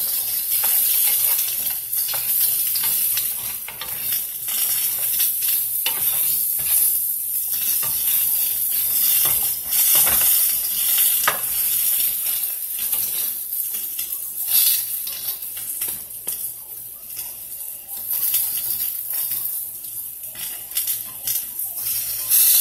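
Fake cheese melting in a hot breakfast pan, a continuous bright sizzle with scraping and stirring clinks from a utensil against the pan.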